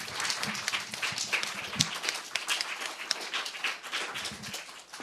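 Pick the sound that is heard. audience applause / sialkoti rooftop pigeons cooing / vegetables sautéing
audience applause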